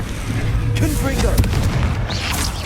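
Fire spell explosion from the Confringo charm in Hogwarts Legacy, a deep boom burst layered into busy game noise with a continuous rumble beneath and no voice over it.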